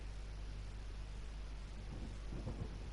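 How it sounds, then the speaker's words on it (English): A low, steady rumble of thunder with rain hiss in the horror game Home, swelling slightly toward the end, continuous and without voices. "thunder and lightning outside."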